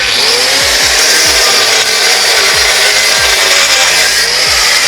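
An angle grinder fitted with an active dust extraction system runs without a break, loud and close. A harsh broadband whine is cut by repeated scraping strokes of the disc against the work.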